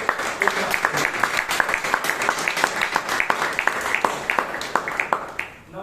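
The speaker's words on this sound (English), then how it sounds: "he deserves a huge round of applause" At a Toastmasters club meeting in Bangalore, a modest group applauds the table topic master, individual hand claps distinct and rhythmic rather than a blended roar, steady throughout and tapering near the end.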